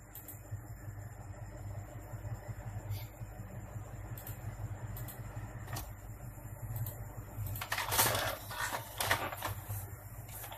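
A reassembled Epson L310 inkjet printer runs a print job, its faint mechanical whir and rhythmic carriage movement growing into louder clattering bursts toward the end.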